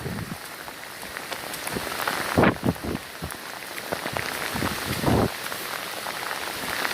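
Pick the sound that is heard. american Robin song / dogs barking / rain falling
rain falling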